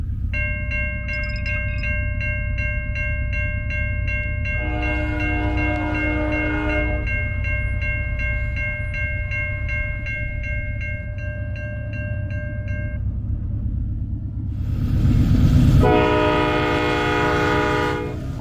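A Norfolk Southern westbound manifest freight led by GE and EMD locomotives rumbles steadily nearby, its chord horn sounding several long blasts that swell louder as the train passes, with continuous wheel and engine noise underneath.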